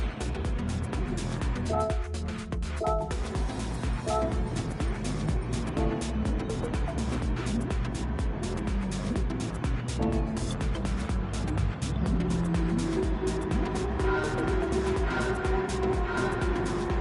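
Racing cars in a sim racing game pulling away from the start together, a thick, continuous roar of many engines at high revs with rising tonal whines throughout.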